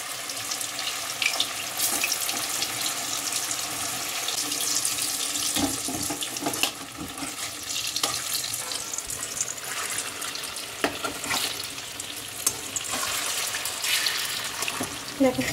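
Young jackfruit koftas fry one by one in hot oil in a kadai, with a dense, constant crackling sizzle and occasional sharper pops while a person talks.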